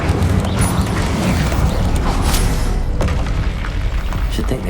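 Loud rumbling explosion from a Confringo spell in the video game Hogwarts Legacy, a dense booming roar with crackling debris that fills the whole stretch without letting up.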